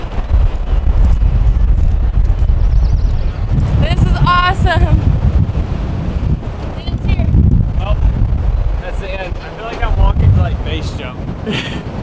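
Strong wind buffeting the microphone on top of a mountain at sunrise, a steady loud rumble throughout with a person talking over it.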